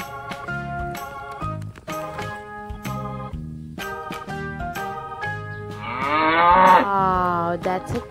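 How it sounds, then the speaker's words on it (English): A cow lows in long, drawn-out moos, the sound of an animal toy unboxed for kids, loud and repeated with short pauses, rising to a stronger strained call near the end. "Wow, that's a cow."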